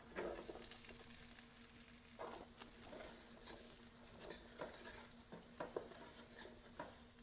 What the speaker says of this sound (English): Get that stirred around.